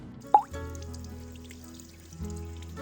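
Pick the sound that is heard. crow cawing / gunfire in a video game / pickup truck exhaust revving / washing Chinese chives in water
washing Chinese chives in water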